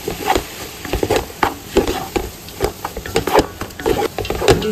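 A spoon scrapes and stirs poha in a pan on a low-flame stove, giving a run of soft, irregular scraping and tapping strokes over a faint background hiss.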